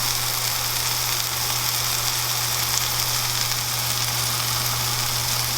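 Fish frying in a pan, a loud, dense and continuous sizzle with a steady low hum underneath, close up and without any voices.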